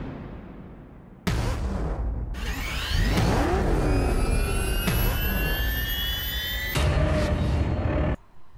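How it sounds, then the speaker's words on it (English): The Batmobile driving away through a Chinatown street of Gotham in Batman Arkham Knight, a loud sustained jet-like engine roar with rising whine and bursts of thrust, ending abruptly. "here we have a shot of the Batmobile driving away in some sort of Chinatown area of Gotham"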